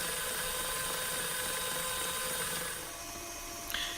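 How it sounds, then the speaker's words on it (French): Electric mixer whirring steadily at medium speed while beating apple cake batter, a continuous motor drone that eases slightly lower near the end with a brief clink at the close. "nous allons relancer le batteur à vitesse moyenne"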